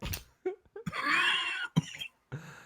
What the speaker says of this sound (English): You coughing up there?